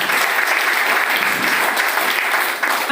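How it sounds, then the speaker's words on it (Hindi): A loud, dense burst of audience applause rises at a celebration function, many hands clapping steadily and evenly for the whole stretch with no talking over it. "एक बार शानदार खतरनाक ताली होनी चाहिए"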